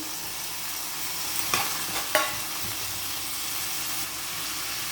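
Tomato going into a pan of frying onion, green chillies and mint for vermicelli upma, a steady soft sizzle with a couple of sharp stirring scrapes near the start, no talking.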